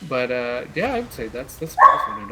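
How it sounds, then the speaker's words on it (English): A pet dog barks and yips in short bursts close by, under and between a man's steady conversational speech. "I'm sorry if you can hear my dog; he's having a moment right now."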